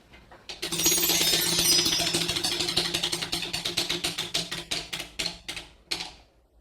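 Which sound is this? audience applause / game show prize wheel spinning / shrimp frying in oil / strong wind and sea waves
game show prize wheel spinning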